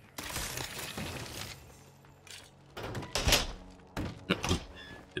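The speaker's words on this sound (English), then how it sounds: "Close the door on myself." In the zombie survival game State of Decay 2, a door slides and thuds shut with a couple of sharp knocks, followed by scattered clunks and bumps at moderate volume.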